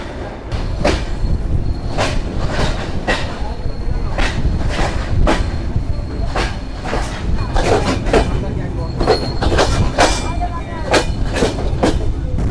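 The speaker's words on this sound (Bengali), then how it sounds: "আমাদের ট্রেন ছেড়ে গেল নাটোর রেলওয়ে স্টেশন থেকে।" The Rangpur Express pulls out of Natore railway station with a loud, steady rumble and a regular clickety-clack of wheels over rail joints, sounding close.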